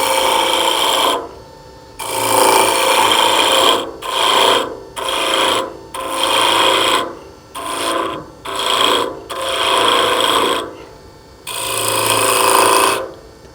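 A woodturning tool cuts timber on a lathe while shaping a Christmas tree, producing repeated close, loud scraping passes of a second or so each, separated by short quiet gaps.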